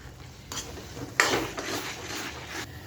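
Carrot halwa stirs in a pan over high heat, with a spoon scraping and clattering against the metal in a few bursts over a low sizzle, close and moderately loud.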